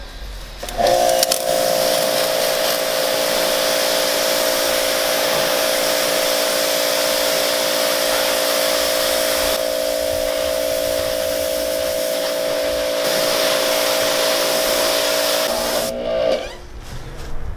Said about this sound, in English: just to see just how much stuff the pressure washer gets off on its own